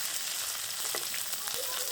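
Onions sizzling in hot oil with green and dried chillies for a spicy village-style sundal, a steady close frying hiss with faint crackles and no talk.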